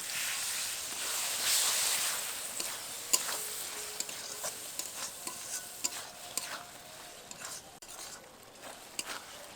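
Chunks of fat being stirred with spices in a pan for a jackfruit curry, a steady soft sizzle with repeated scraping and clinking strokes of the spoon, fairly quiet and close, no voices.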